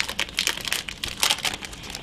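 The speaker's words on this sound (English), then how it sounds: "They come in a really nice plastic bag." Crinkling plastic bag that holds a set of cross stitch cards, handled close up in a steady run of bright rustling crackles with louder bursts, no voices.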